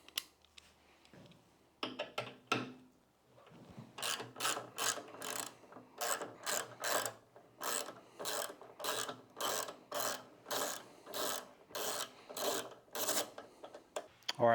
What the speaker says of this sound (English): The first thing you're going to do is remove this bottom bolt right here